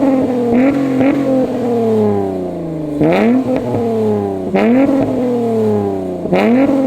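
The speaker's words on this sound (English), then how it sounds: "we're gonna go to the spot for some revs" A Honda Accord V6 fitted with an aggressive aftermarket exhaust revs hard in several sharp bursts from a few feet away, each one rising then dropping back to a rumbling idle, loud and up close.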